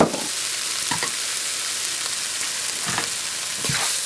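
Onion, chili, cumin powder and salt frying in a pan, with a close, constant crackling sizzle and a few short stirring scrapes breaking through, and no one speaking.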